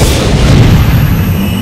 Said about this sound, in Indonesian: bintang akhirnya mendarat dan menyebabkan ledakan